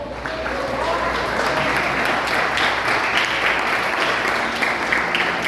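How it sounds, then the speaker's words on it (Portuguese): Church congregation clapping in praise during a worship service, a continuous loud crowd applause with a faint musical tone and some voices mixed in. "Aplauda o Senhor."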